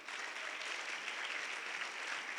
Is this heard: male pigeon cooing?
no